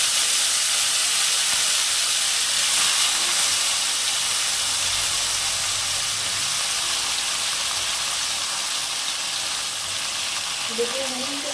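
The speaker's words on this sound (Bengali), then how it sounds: "এখন আমি সবজিগুলো দিয়ে দেবো। গ্যাসটা কমিয়ে নেব।" Shrimp and five kinds of mixed vegetables cook in a hot pan on a gas stove, giving a steady, loud, broad sizzling hiss that continues evenly throughout.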